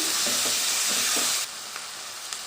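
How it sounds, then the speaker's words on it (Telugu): Tomato pieces and prawns fry together in a pan, a steady close sizzle with soft stirring scrapes that drops to a quieter hiss partway through. "ఇలా గోల్డ్ కలర్లో ఫ్రై అయ్యాక ఇప్పుడు ఇందులో మనం టమోటా వేసుకోవాలండి చూడండి టమోటా ముక్కలు ఇందులో వేసేసుకోవాలి"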